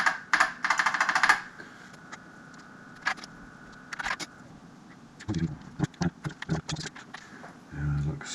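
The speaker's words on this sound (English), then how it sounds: "Classic BBC micro keyboard sound already." Bursts of rapid clacking BBC Micro computer keyboard typing, close and crisp, with scattered single key presses and brief pauses between runs.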